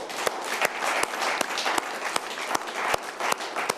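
A studio audience claps for a poet on a Hindi comedy-poetry show, a steady, dense applause with sharper individual claps standing out throughout.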